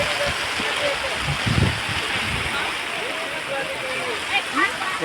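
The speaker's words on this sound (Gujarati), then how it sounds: "આ રવિવારી બજારમાં જો વરસાદ આવી ગયો છે" Heavy rain pours over an outdoor Sunday market in Morbi, a dense and steady hiss of water that never lets up, with faint voices mixed in under the downpour.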